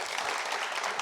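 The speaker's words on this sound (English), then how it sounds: "So please give them a big applause." Brief burst of audience applause at a tech conference talk about Astro, dense crowd clapping at an even level throughout the short moment.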